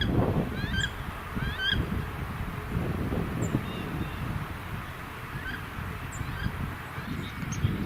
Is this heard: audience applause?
no